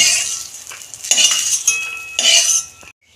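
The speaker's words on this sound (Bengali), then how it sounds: "আমি তুলে নিচ্ছি কাজু কিশমিশ ভাজা হয়ে গেছে" A metal spoon scrapes and clinks against a pan while lifting out fried cashews and raisins, in a few close, bright bursts over about three seconds before stopping abruptly.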